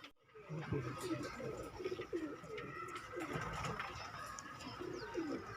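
Soft pigeon coos repeat steadily at close range, with a faint hum of background activity and light chirps behind them.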